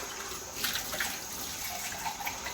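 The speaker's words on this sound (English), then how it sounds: "Then I'm going to rinse the black beans off." Canned black beans are rinsed under a running kitchen tap, a steady close hiss of flowing water with faint splashing against a strainer, continuous and fairly quiet.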